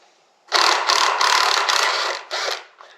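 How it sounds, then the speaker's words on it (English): Rapid ratchet clicking while removing the front brake caliper from a Royal Enfield motorcycle, several close bursts of loud ratcheting separated by brief pauses. "Then we want to take the brake caliper off."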